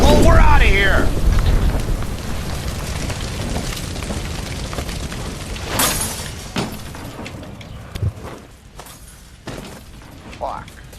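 In the video game L.A. Noire, a gas line explodes with a loud shattering, rumbling burst followed by debris crashes and smaller bangs fading off, with raised voices over the start.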